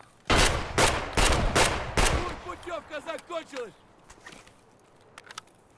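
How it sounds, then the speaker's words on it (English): Shotgun gunfire in the video game Escape From Tarkov: five loud, evenly spaced blasts, followed by softer rhythmic clicking and shuffling sounds, and then a quiet stretch with a couple of small knocks. "Another 5 shots. 8 scavs, 58 rounds fired."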